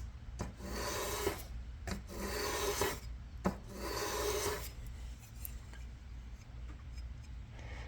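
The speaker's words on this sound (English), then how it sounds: "I'm gonna run this across the 400 grit a handful of times." A knife blade is drawn across a 400 grit sharpening stone in three long, scraping strokes close by, each a gritty rasp with short pauses between, followed by softer rubbing.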